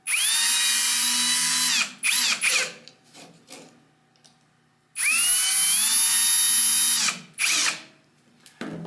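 Cordless drill with its clutch set low driving soft screws into a CNC-cut wooden dog leash holder, two long steady motor whines close up, each ending in brief stuttering bursts as the clutch slips.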